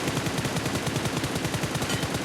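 Rapid automatic gunfire in the mobile video game PUBG Mobile, a steady stream of sharp shots that stays loud and continuous throughout, with no talking.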